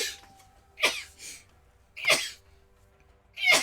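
Three close, sharp sneezes spaced about a second apart, each a hissing burst with a small breathy sound between the first two, in a quiet room.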